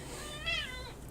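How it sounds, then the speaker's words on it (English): A single cat meow with a rising, then falling tone, heard close and fairly clear over a steady low background hum, lasting about half a second. "Cat, I need you to meow for the stream."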